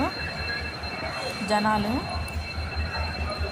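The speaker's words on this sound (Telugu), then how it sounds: "ఇదిగోండి, మన ట్రైన్ వచ్చింది." A passenger train from Guntur pulls into Kanigiri station with a brief rising and falling wheel squeal over a low rolling rumble, while a crowd chatters in the background.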